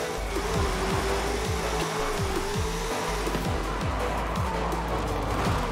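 A drift-tuned car in the video game Forza has its engine held at full throttle with stability control switched off, giving a loud, steady engine drone with a wavering pitch and rhythmic low thumps, and no talking over it.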